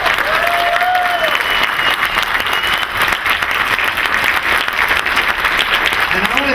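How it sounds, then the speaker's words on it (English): Big, continuous round of applause from a convention crowd at a horror film panel in Atlanta, loud and steady throughout, with a brief tonal whistle-like sound early on. "Please give them a big round of applause."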